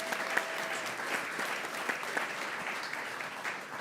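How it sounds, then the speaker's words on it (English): A steady, dense round of audience applause fills the whole stretch at a Stop Food Waste Day event, with many hands clapping at a moderate distance and no lulls. "Give that a round of applause"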